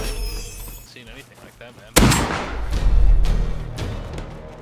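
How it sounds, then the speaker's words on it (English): A sharp gunshot cracks close by in the survival game Rust, followed by a rumbling burst of further fire and booming echoes that gradually fade. "I then ran to some gunshots nearby."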